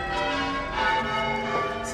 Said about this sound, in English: Campanologists are campanologing in that bell tower up there.